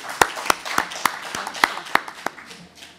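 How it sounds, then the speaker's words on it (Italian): Sparse, separate claps from a small group ring out at an Italian coronavirus press conference in March 2020, thanking the interpreter. The claps come at a loose, roughly even pace in a quiet room and trail off near the end. "Un applauso."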